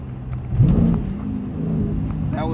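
Manual 6-speed Dodge Challenger SRT 392 lugging in too low a gear, a deep engine rumble and shudder that swells briefly then drones steadily, close and fairly quiet.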